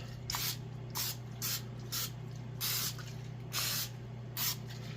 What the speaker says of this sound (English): I'm going to spray some butter spray on top before I put them in the oven